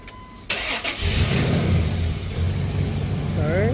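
A 2004 Dodge Dakota engine cranks and catches right after a fuel pump replacement, then settles into a steady, loud idle with a low rumble close by, a brief whirring rise near the end.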